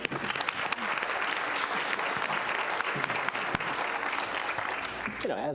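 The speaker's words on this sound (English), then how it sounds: "Can we give them a round of applause one more time, please?" Sustained applause from a crowd, steady and fairly loud for the whole stretch, with a few cheers rising near the end.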